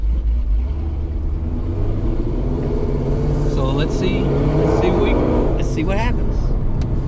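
A Dodge R/T fitted with Hellcat axles drives along, its engine hum and road roar steady and loud from inside the cabin, while someone talks over it.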